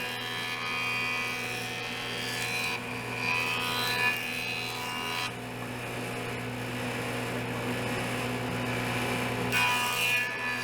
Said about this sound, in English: I'm going to run all the pieces through the joiner, and I'm going to make 2 passes on each side.